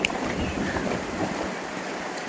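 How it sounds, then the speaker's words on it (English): Strong coastal wind in Calais buffets the microphone, a constant loud rushing roar that stays steady throughout. "You can hear how windy it is here."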